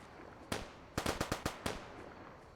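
Automatic rifle fire in the video game Fallout New Vegas: a single sharp shot, then a quick burst of five rounds and one more shot, crisp and loud against a quiet background.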